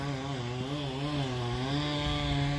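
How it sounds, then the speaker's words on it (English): Chainsaws cutting a tree drone steadily at a distance, a quiet, continuous buzzing hum with no pauses, heard from a street. "I'm sure you can hear those chainsaws running"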